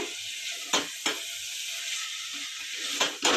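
Peas, potatoes and mixed vegetables frying in a pan for veg pulao, with a steady sizzle and a few sharp scrapes of a spoon stirring through them, close and alone.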